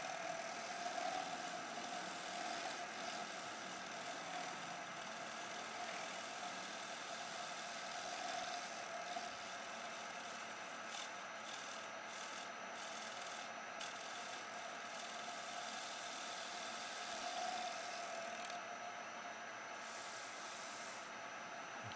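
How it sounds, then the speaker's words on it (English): A lathe-turned wooden bowl under a very light shear scraping cut, a soft continuous rasp riding over the steady drone of the running lathe, faint and even throughout with no talking. "Now we're going to do a very light shear scraping cut."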